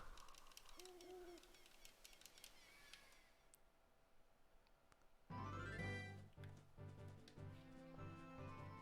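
An owl hoots in Zelda: Ocarina of Time Master Quest, with a few soft hoots early on against a busy game soundscape. Louder game music and effects take over partway through.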